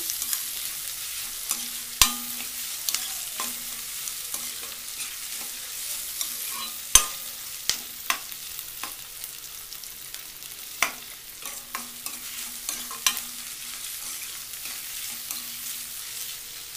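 Ingredients for a hotel-style poori curry fry lightly in a pan while being stirred, giving a quiet, steady sizzle broken by irregular sharp clicks and scrapes of a spoon against the pan, close and without speech.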